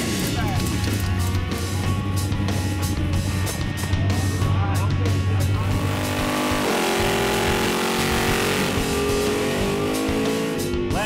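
Drag racing trucks at a strip launch and accelerate hard, a loud continuous engine roar with rising revs and gear changes, steady and close throughout.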